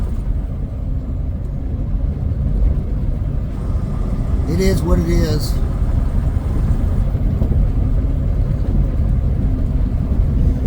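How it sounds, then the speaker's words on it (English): A steady low engine rumble from a truck rolling down the Denali Highway in Alaska, continuous throughout, with someone briefly speaking over it. "the sound of the motor and the truck going down the road"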